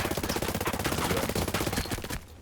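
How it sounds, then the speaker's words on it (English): Dense automatic gunfire crackles in rapid bursts in the Ghost Recon military shooter, loud and continuous before cutting off abruptly near the end. "I hear gunfire."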